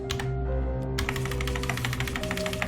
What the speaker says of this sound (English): We'll just have to shuffle them. Okay, I'm going to keep my eyes shut for this shuffle.